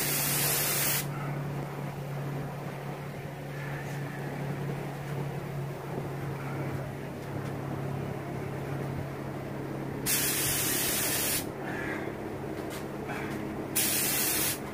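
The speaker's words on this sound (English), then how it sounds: "we're going to do 2 coats of primer, and then we'll go with the base coat of black" Primer sprays onto a GTO front bumper from an aerosol can or spray gun in a loud, steady hiss lasting about nine seconds, then stopping and restarting in two shorter bursts near the end.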